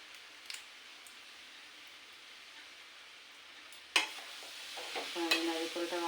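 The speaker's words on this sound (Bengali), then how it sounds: "আমি নারিকেলটা ভালো করে ভাজা করে নেব" Grated coconut with three cardamom pods frying in a pan: a quiet start, then a sudden scrape as stirring begins, followed by soft sizzling and repeated stirring strokes.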